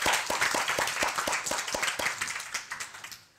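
An audience at a communications class on active listening claps in a brief burst of applause, a few distinct hand claps rising quickly into steady clapping that thins out and fades toward the end.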